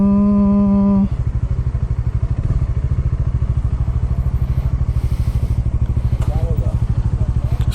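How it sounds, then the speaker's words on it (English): Motorcycles idling together at a group ride meetup, a deep rapid engine thrum dominating and close by, with a brief horn-like tone at the start. "So many bikes."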